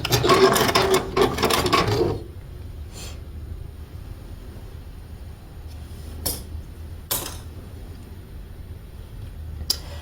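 A Juki DX7 sewing machine runs a straight stitch across small fiddly quilt pieces in a short, dense rasping burst that stops after about two seconds, followed by a few faint clicks and quiet handling.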